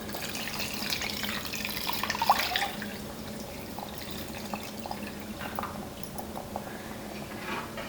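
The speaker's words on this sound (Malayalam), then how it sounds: "ഇതിലേക്ക് 2ാം പാല് ചേർത്ത് കൊടുക്കാം." Second coconut milk pours into ada pradaman in a pan, a steady close liquid splashing and trickling that runs throughout at moderate volume, with faint clinks and no talking.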